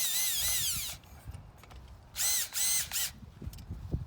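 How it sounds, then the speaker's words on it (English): A power driver tightens screws on a replacement rib of a Treasure Garden market umbrella, giving two whining bursts that rise and fall, with soft handling clicks and knocks between them. "now we're just going to tighten those screws up"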